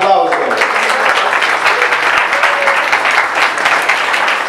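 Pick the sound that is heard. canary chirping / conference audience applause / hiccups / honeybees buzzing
conference audience applause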